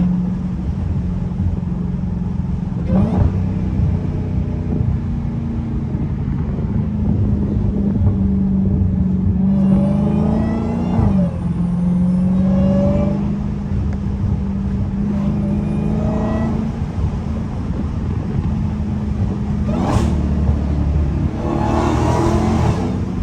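A Dodge SRT Hellcat's engine rumbles and revs through repeated downshifts, loud and close from inside the car, with several sharp blips and rising surges over a constant drone.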